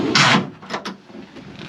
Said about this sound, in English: you got all these large gunnel drawers.